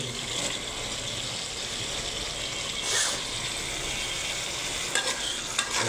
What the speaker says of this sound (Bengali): দেখতেছেন কচু ডাঁটা দিয়ে রান্নাটা হচ্ছে